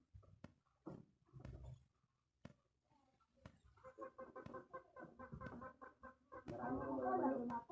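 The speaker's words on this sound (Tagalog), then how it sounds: "Marami akong mga manok dito mga kapatid" Several chickens cluck in a busy, overlapping chorus that builds louder toward the end, with scattered short calls at the start.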